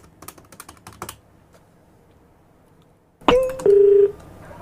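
Typing-like key presses on a phone keypad for a radio prank call, followed after a short pause by a loud, steady dial or connection tone lasting about a second.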